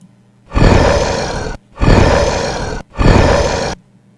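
A person imitates a roar with the voice, three loud, rough, sustained growling bursts of about a second each, separated by brief pauses, close and alone.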